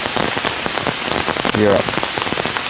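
Rain pours steadily onto leaves and surfaces in a deep jungle, a dense continuous hiss with close patters throughout, and a voice speaks briefly over it.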